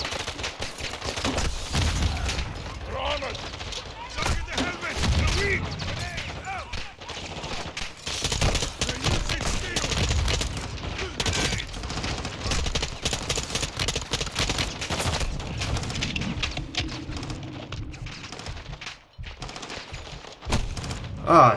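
Sustained gunfire in Modern Warfare II, dense rapid bursts and overlapping shots from multiple weapons, loud and continuous with a few brief lulls and low rumbling impacts.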